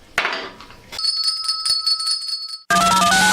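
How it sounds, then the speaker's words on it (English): A studio bell struck once at a morning radio show rings out with a bright, sustained metallic tone that decays over about two seconds, then music starts abruptly. "Now where's my bell?"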